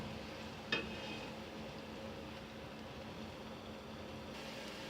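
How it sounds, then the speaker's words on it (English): Very finely chopped onion fries in hot oil for an Indian-style chicken rice, making a soft, steady sizzle with one brief clink of a utensil near the start. "fry these onions until they turn light brown in color"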